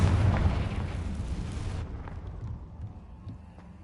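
A Confringo spell explosion in the Hogwarts Legacy video game, a loud fiery blast with a deep rumble that fades into crackling debris and a lingering tail, alone.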